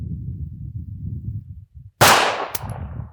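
A single loud pistol shot cracks sharply after low murmuring, with a second quieter sharp report half a second later, during a 50-50 grip drill at a shooting range.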